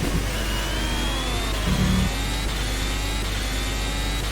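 A Formula 1 car engine in the rFactor racing game at the Bahrain circuit: a steady, loud, high-pitched engine whine with shifting pitch that runs throughout, with no one talking.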